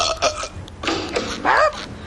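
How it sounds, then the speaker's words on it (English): A cartoon boy lets out several loud, drawn-out burps in a row, the last one longest and strongest, with short pauses between them. "are you burping again?"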